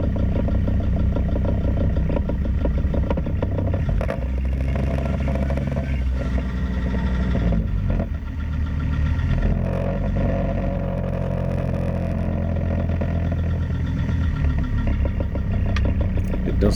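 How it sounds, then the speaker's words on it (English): A 2001 Mercedes-Benz ML270 CDI (W163) with a suspected drive shaft centre bearing fault cruises at about 30 kph on a straight, flat, smooth road, giving a steady, close low engine and road drone throughout. "we're cruising down a straight, flat, smooth road, doing about 30 kph"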